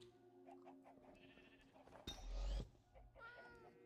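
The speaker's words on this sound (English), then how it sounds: "Hey, that's a cat." A cat meows in the Minecraft video game, a few short cries heard amid game ambience, with a louder rushing burst partway through and no talk.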